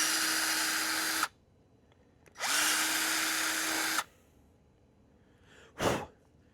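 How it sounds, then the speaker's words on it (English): A power drill enlarges holes in a throttle panel, two loud close bursts of steady motor whine with a short pause between them, followed by a quick sharp noise near the end. "let me make sure I drill all of these out on the edges"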